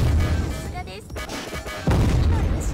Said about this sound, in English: And yes, the explosions are pretty satisfying. I like the little debris that went flying.